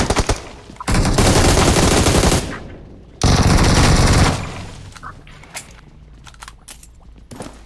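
Automatic gunfire bursts loudly in PUBG Mobile, with two long sustained volleys followed by scattered single shots and clicks.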